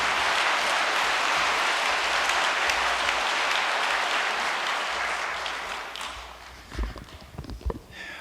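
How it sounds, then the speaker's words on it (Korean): Loud, dense audience applause at a New Year's Day prayer service, welcoming a chairman to speak. It fills the first six seconds, then fades into scattered claps and faint noise. "뜨거운 박수로 환영하겠습니다"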